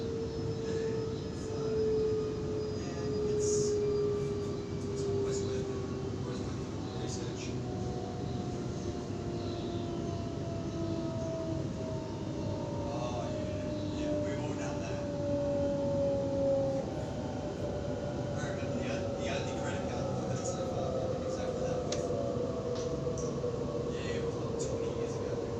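A Sydney T3 Bankstown Line train running between stations, a steady low rumble and rolling noise with a rising and falling whine, heard from inside the carriage throughout, with faint voices in the background.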